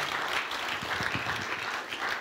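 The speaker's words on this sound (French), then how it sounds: "Combien veulent applaudir le Seigneur pour célébrer sa grandeur ce matin" A church congregation claps in praise during a Sunday-morning sermon, a dense, continuous wash of many hands heard from a little distance, fairly soft and without voices.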